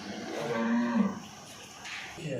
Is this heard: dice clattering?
no